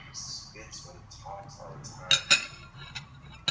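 Crystal clear slime is stirred in a bowl, giving soft wet squelches and a few sharp clinks of a utensil against the bowl while a voice talks faintly.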